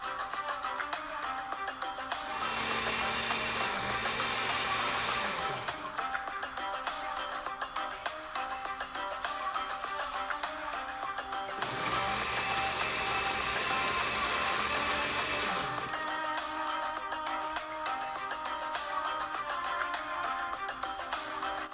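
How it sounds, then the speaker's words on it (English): A blender whirs loudly through sorrel and a little water in two long bursts, its motor pitch dropping as the thick load drags, separated by a quieter stretch of low hum. "I also added a small portion of the water into the blender so that the sorrel can blend properly."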